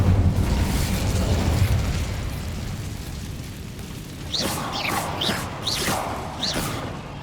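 Incendio fire spell cast in Hogwarts Legacy on PS5, a dense rumbling fiery roar that fades somewhat, then a series of sharp crackling bursts and whooshes from about four seconds onward.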